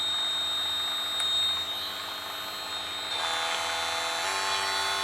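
A Graphite 58G013 cordless multi-tool runs unloaded at its lowest speed setting, a steady high-pitched electric whine close by with a slight shift in tone partway through.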